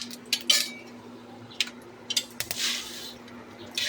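A spoon stirs panch phoron spices in a pan, making sharp metallic clinks and scrapes in scattered bursts, with quiet pauses between them.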